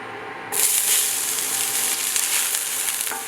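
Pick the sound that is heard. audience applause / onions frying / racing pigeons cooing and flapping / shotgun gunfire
onions frying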